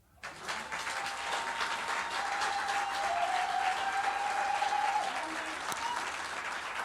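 A church congregation applauding and cheering loudly during a sermon, a dense, sustained wall of clapping with raised voices that swells quickly and holds steady for several seconds.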